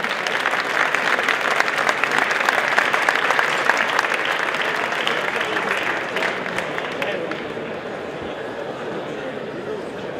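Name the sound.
loud applause for technical team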